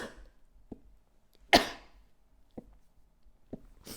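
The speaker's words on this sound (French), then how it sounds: "Pardon, je vais éternuer." A single sharp, loud sneeze bursts out in a quiet indoor room, preceded and followed by a few faint soft throat sounds and breaths.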